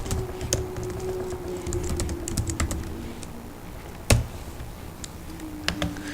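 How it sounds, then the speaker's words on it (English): Typing on a computer keyboard while working in an IntelliJ-based IDE, a close, uneven patter of key clicks with a few sharper strokes over a steady low hum. "You can start typing."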